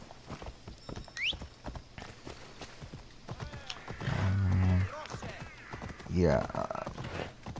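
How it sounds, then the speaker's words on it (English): Horse in Assassin's Creed Odyssey, with hoof clip-clops and a loud whinny from the game, heard under casual talk. "Let's call a horse."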